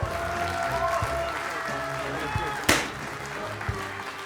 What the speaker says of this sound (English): Ladies and gentlemen, a round of applause, please, for Alexander